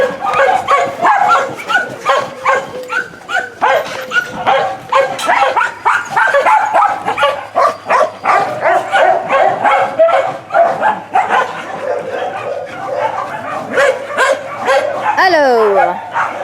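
Many dogs at a dog shelter in Becej bark and yip in a dense, continuous chorus, close and loud, with a whimpering whine near the end.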